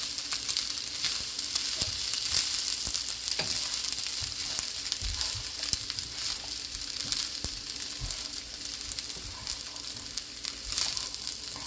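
Vegetables stir-fried in a pan for Jamaican-style vegetable fried rice give off a steady, close sizzle with scattered spatula scrapes and knocks, with no talking.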